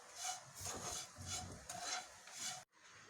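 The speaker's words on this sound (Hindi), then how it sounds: "ये किशमिश भी ऐड कर देंगे और ये जो काजू मैंने क्रश कर लिए हैं ये देखिए कुछ पाउडर सा है और कुछ इसमें काजू के टुकड़े हैं, इनको भी हम मिला देंगे।" Coconut laddu mixture with raisins and crushed cashew powder and pieces being stirred and rubbed together in a bowl, a steady close scraping and rasping in repeated strokes that stops abruptly near the end.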